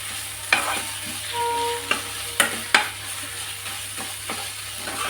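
Ginger garlic paste fries in a hot pan for Andhra-style spicy chicken, with a constant close sizzle and a few sharp scrapes and knocks of a spoon stirring through it.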